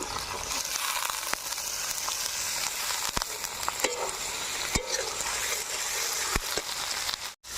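Sliced ridge gourd hits hot spiced oil with yogurt in a pan, giving a steady close sizzle broken by sharp clicks and scrapes of stirring, with no talk.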